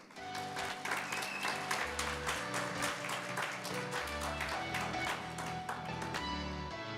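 Applause welcoming a speaker at a virtual global symposium, heard as rhythmic clapping over a sustained tonal backing, fairly quiet and even throughout without speech.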